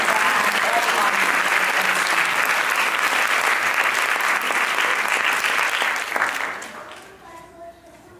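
An audience at a Bharatanatyam arangetram gives a long, full round of applause that holds steady and then tapers away over the last couple of seconds.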